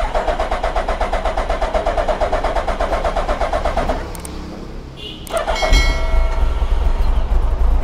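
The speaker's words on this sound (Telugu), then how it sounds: "ఇప్పుడు ఫస్ట్ స్టార్ట్ అవుతుంది బైక్కి" A new Suzuki Hayabusa motorcycle is started: a fast, rhythmic pulsing drone fades into a brief lull, then the engine fires with a sudden loud burst and settles into a strong, close, steady idle.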